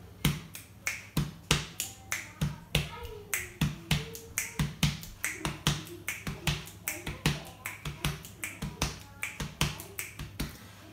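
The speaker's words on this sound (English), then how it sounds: "we use clicks as the ghost notes in between the rhythms, and they sort of sound like hi-hats on a drum set" Body percussion in a samba-style pattern: crisp finger clicks fall as quick ghost notes between heavier chest hits, giving a steady hi-hat-like rhythm that continues close and alone.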